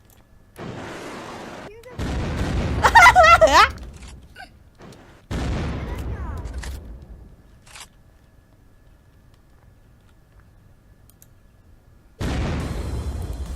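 Rocket fire and explosions from a multiplayer Unturned match, a few loud bursts with a whistling streak near the start, separated by quiet gaps, while players talk excitedly in between.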